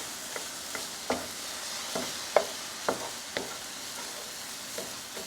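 Fried rice being stirred in a pan with soy sauce just mixed in: a steady sizzle runs underneath while a spatula scrapes and taps at irregular intervals, close and fairly quiet, with no talking.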